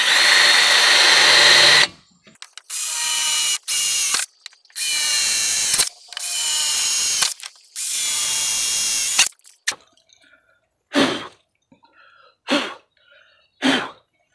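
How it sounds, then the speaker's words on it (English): A power drill bores holes into a mobility scooter in several loud whirring bursts separated by short pauses. Fainter, brief clicks and scrapes from handling the tool follow. "now I'm gonna go ahead and drill some holes so I can wrap these zip ties around"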